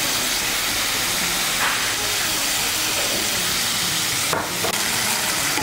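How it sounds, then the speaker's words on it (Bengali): Ginger paste frying in hot oil with tomato paste for a Bengali potato and soybean curry, a loud continuous hiss and sizzle with a brief scrape of stirring near the end. "আদা বাটাটা মিশিয়ে নেব। মিশিয়ে নিয়ে একটু ভেজে নেব।"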